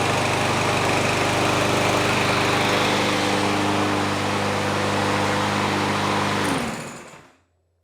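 A Snapper lawn mower with a Briggs and Stratton engine runs loud and steady with a buzzing drone, then winds down and cuts off near the end.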